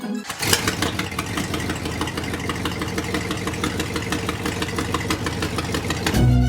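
A tractor engine starts and settles into a fast, rhythmic chugging idle, close and steady with a knocking mechanical pulse that holds for several seconds.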